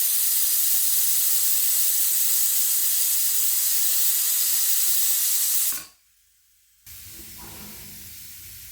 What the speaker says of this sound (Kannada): ಈಗ ಮೂರು ವಿಷಲ್ ಆಯ್ತದು ಬೆಂದಿದೆ